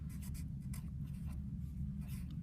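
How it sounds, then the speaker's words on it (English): Pen or marker scratching out a name on a freshly painted rosemaling folk-art piece, a faint steady scribbling with short bursts of strokes, close and quiet over a low background hum. "before it goes on the drying rack, I'm going to write my name on it."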